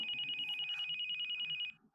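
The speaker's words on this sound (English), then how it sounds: "Just then, the phone rings." A telephone bell rings in rapid, steady trills for nearly two seconds, then stops; clear and fairly close, with no talking.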